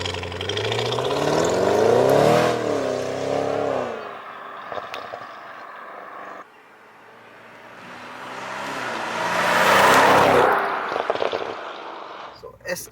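An Audi S8 Plus D4 with a V8 and an 8-speed ZF gearbox revs up loudly with a rising, throaty engine note. The engine eases off, then swells again to a second strong rev, with speech in the background.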